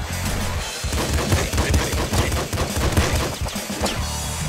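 Rapid machine-gun fire from the video game Nuclear Throne, dense bursts of thumping shots rattling almost continuously at close range and high volume.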